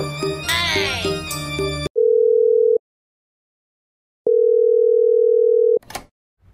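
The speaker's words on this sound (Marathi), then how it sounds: "यो फोन घे, ते कागदाच्या नंबरावर फोन कर ना" Brief muffled sounds give way to a phone ringback tone on speakerphone: two long, loud electronic beeps separated by a stretch of silence.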